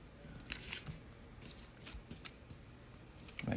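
Crisp paper rustles and light crinkles as a sheet of origami paper is folded and pressed into a crease, close and quiet, with scattered soft taps and a louder crumple near the end.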